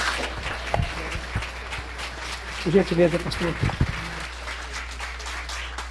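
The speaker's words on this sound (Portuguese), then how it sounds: "Os irmãos recebem o reverendo com a linda salva de palmas." A church congregation claps to welcome a reverend, a moderate, scattered applause that builds briefly in the middle as someone speaks over it and footsteps move nearby.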